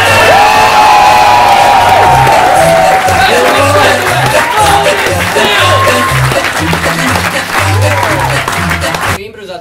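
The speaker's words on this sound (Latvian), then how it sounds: "Pamēģinām, kāda ir aplausa uz 5." Live improv theatre audience bursting into loud applause with cheering and whoops, a dense sustained clatter of clapping that fills the room and cuts off abruptly near the end.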